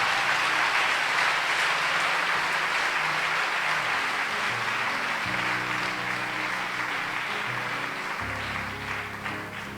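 A church congregation applauds in a dense, sustained wash of clapping, with low hum and tones underneath, gradually easing off toward the end.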